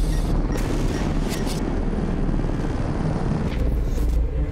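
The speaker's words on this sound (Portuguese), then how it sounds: "O helicóptero é acionado e dá cobertura." A police helicopter flies over a high-speed car chase in Sorocaba, Brazil, its engine and rotor making a steady, loud, continuous rumble with a faint rhythmic beating throughout.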